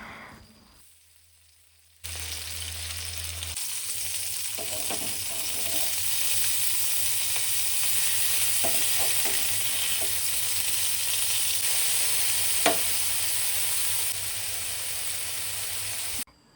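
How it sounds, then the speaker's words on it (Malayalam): Masala-marinated fish pieces frying in hot oil, a steady loud sizzle that starts abruptly and holds for over ten seconds, with a few soft clicks of turning the pieces. "മസാലയൊക്കെ തേച്ച് ഫ്രിഡ്ജിൽ വെച്ചിട്ടുണ്ടേനി ഇനി അതും കൂടി ഒന്ന് പൊരിച്ചെടുത്താൽ"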